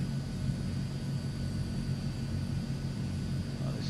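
Transall C160 cargo plane engines in Microsoft Flight Simulator, a steady low droning roar that holds at an even level throughout the takeoff run with no voices over it.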